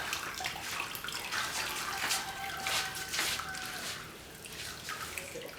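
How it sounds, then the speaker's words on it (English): Homemade chicken stock draining and trickling into a bowl, a continuous watery splash with dripping bursts, fairly close and steady. "we're going to let that drain really good"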